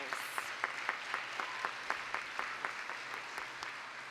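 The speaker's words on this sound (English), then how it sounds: "Let's give a round of applause again to our Charlotte Mayor Vi Lyles" An audience at an awards gala claps for the Charlotte mayor, moderate applause with distinct individual claps standing out in a loose, steady rhythm throughout, heard from a slight distance.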